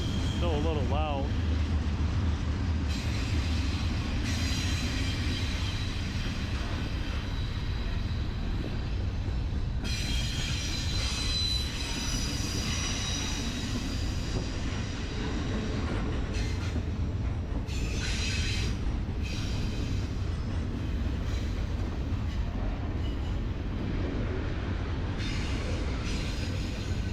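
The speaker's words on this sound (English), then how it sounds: "It's a long train, everyone." A long train rolls past at night near the town area of Stockbridge, Georgia, its heavy rumble steady and loud throughout with intermittent wheel squeal, while a person talks over it.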